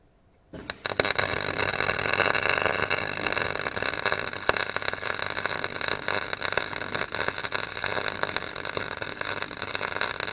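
An electric welder lays a bead on metal during an Astra car rebuild, giving a steady, dense crackling sizzle that starts abruptly after a brief quiet moment and then runs on, loud and continuous, with no talking.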